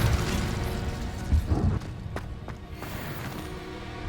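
Incendio fire spell cast in the Hogwarts Legacy video game: a close, rumbling whoosh of flame with a thumping burst, then a few sharp crackles and pops as the roar settles to a steady low hum.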